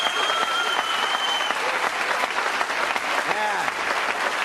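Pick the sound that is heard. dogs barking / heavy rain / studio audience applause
studio audience applause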